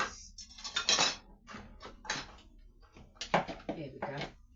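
Teaspoons and cutlery clatter and clink in a drawer in a home kitchen during Christmas cake baking, several bright metallic bursts with short pauses, close by and moderately loud.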